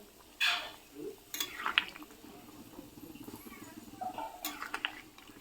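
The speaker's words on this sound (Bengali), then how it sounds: "এই আমি গরম মশলাটা দিয়ে একটু মিশিয়ে নিচ্ছি" A spoon or spatula stirs garam masala into chicken curry in a pan. Scraping strokes come in several short, uneven bursts over a faint sizzle, with quiet pauses between them.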